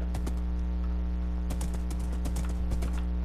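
A horse trots along in Minecraft, its hooves giving quick clip-clop beats in irregular bursts above a steady background drone. Nobody speaks.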